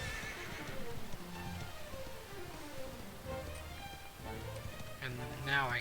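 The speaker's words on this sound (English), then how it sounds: "it looks like I stayed on the horse, so that means I can continue to ride them." A horse in Dragon Quest XI whinnies in falling, wavering calls amid clip-clopping hooves, with a second sharper neigh near the end, all at moderate level while someone talks over it.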